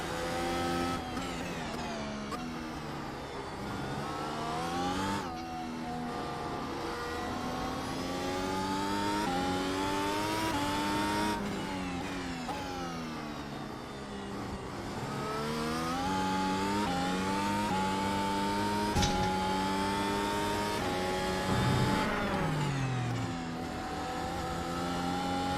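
An F1 race car engine at Interlagos in a VR racing game, loud and continuous, revving up and down through gear changes as the car laps the circuit, with no talk.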